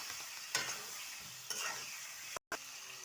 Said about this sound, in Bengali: দিয়ে দিচ্ছি ভেজে রাখা আলু। আলু দিয়ে সামান্য কষিয়ে নেব।